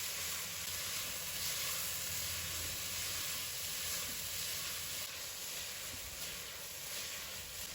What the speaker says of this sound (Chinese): 我们再倒入青红椒丝给它配色，快速的翻炒，把青红椒丝炒至断生